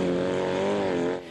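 Old battered cars race on a dirt field track with sharp turns, one engine holding a loud, close, sustained whine that shifts slightly in pitch before dropping off at the end.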